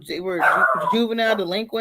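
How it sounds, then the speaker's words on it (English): A dog barks in the background, off-mic and partly masked, while a person speaks continuously over it in the foreground. "that's my dog in the background"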